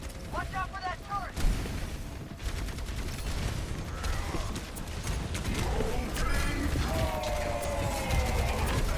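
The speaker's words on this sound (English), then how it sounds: "Watch out for that turret." Rapid mechanical turret fire rattles through a busy Overwatch 2 match in a collegiate esports game, a dense, steady mix of weapon shots and ability effects lasting throughout, with voices in the background.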